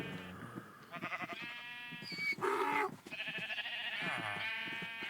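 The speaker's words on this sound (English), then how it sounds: "And then we've got our sheep farm." Several Minecraft sheep bleat one after another on a sheep farm, with wavering, nasal calls that overlap and come close and fairly loud, with no talking over them.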